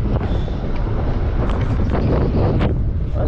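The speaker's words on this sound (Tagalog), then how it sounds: "Ang lakas ng hangin, ah." Strong wind buffets the microphone in a steady, loud rumbling roar throughout, with gusty swells and no clear voices.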